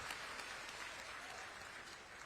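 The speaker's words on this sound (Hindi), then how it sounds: "इसके लिए भी जोरदार तालियों से मुख्यमंत्री जी का स्वागत करें" Crowd at an outdoor political rally applauding to welcome the Chief Minister, a dense, steady wash of clapping heard from a distance, fairly faint and continuous.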